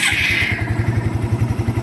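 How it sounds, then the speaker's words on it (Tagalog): A motorcycle engine idles close by with a steady, rhythmic low chugging pulse, running evenly on its own without any voices. "ito yung tunog ng motor ni boss."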